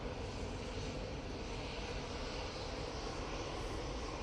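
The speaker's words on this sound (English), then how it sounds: "SAS A320neo is about to rock up" SAS Airbus A320neo arriving at Manchester Airport, a faint, even jet engine hum and rush held steady for a few seconds, distant and alone.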